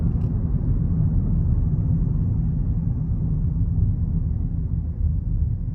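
Steady low road rumble inside a 2015 Buick Enclave with a 3.6 V6 cruising down the interstate, constant and even throughout with no talk.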